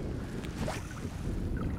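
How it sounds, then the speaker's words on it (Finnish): Strong wind blows steadily at a small mountain lake on the Norwegian fells, a continuous rushing roar buffeting the microphone with no voices. "Toivottavasti saa äänestä jotain selvää, kun on niin kova tuuli"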